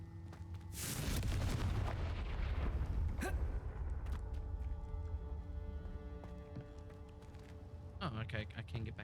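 Confringo blasting spells in Hogwarts Legacy set off deep, booming explosions: a big burst early on followed by rumbling debris and a few sharper cracks, with a second blast near the end.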